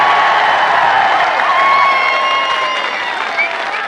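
A large political rally crowd at a jalsa in Mianwali applauds and cheers for Imran Khan, a dense, loud wash of clapping and crowd noise that slowly eases toward the end.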